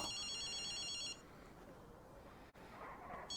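A phone rings in Ghostwire Tokyo, a steady electronic trill that stops after about a second and briefly returns at the end over a low ambient hum.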